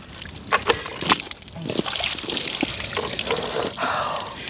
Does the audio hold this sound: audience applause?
no